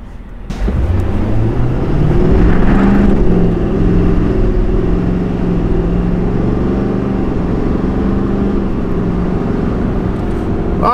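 A 2020 Duramax diesel pickup truck accelerates hard from 0 to 60, its engine a loud, sustained low drone that climbs steadily in pitch without a break.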